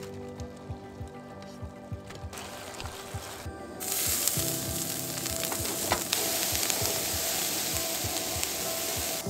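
Sliced peppers and mushrooms sizzle in a cast iron pan for tacos at an outdoor camp, a rhythmic ticking crackle that swells into a louder, denser hiss partway through.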